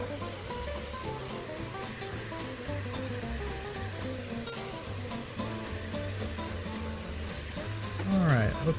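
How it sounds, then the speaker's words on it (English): Potatoes cut for French fries sizzle and crackle steadily in hot oil. The frying runs continuously under background music and a voice, and swells louder near the end. "Frying it now."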